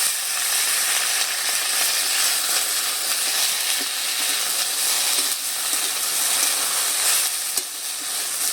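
Taro stolons tossed into frying spice paste of ginger-garlic paste and green chillies make a loud, dense, continuous sizzle and hiss close by, with faint stirring scrapes.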